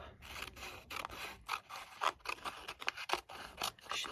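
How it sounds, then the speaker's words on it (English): Scissors snip around printed houses on a paper Christmas card, a close, quiet run of short crisp cuts and paper rustles in an uneven rhythm. "I think I'm going to cut around each one of these houses"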